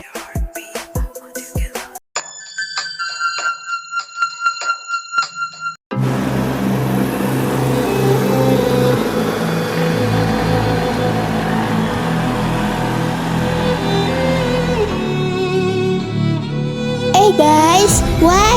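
A motorbike engine in the Sakura School Simulator video game drones steadily and loudly for many seconds after a short stretch of musical tones, with a brief rising rev near the end.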